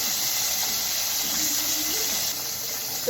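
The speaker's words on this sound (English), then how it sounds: "still frying my third piece of fish" Steady sizzling hiss of cod fish frying in hot oil, continuous and close, with faint bubbling and a slight drop in level near the end.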